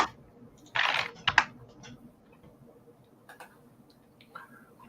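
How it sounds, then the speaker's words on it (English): Two people type on computer keyboards: bursts of close clicking keystrokes, loudest in the first seconds, then lighter scattered taps, with no speech. "we're both being silent, typing away on our computers"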